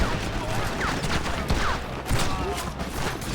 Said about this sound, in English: someone is like seriously shooting at me